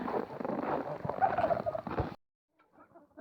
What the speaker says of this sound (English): We've got a couple of roosters in with us.